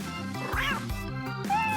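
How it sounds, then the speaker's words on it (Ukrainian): A cartoon cat in a Toca Boca game gives a short, bright, rising-and-falling meow, close and alone, with game music tones around it. "Хороший котик."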